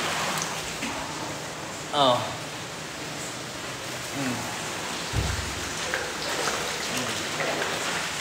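Steady rain pours down as a dense, even hiss, with a brief exclaiming voice and a low thump partway through.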